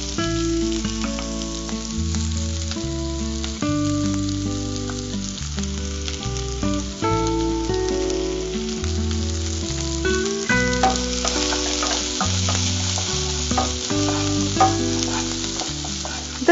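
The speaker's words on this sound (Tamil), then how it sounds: "நல்லா வதக்கிடணும்" Onions, green chillies and curry leaves sauté in a hot pan with a constant crackling sizzle, heard alongside rhythmic background music throughout.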